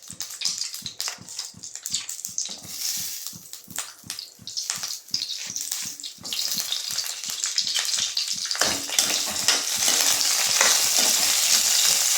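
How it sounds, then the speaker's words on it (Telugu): Whole green chillies fry in hot oil in a pan for a leafy greens chutney, giving a steady crackling sizzle with rhythmic stirring knocks early on, growing louder and denser toward the end. "అందుకని ఇలా హోల్ పెట్టుకుని వేయించుకుంటే ఎగరు."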